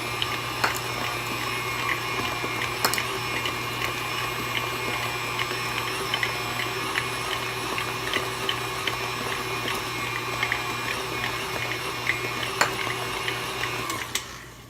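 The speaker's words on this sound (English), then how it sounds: "I have my mixer on 4." An old electric mixer set to speed 4 whirs steadily while blending a coconut oil body scrub, giving a constant close mechanical hum with occasional light clicks and no talking.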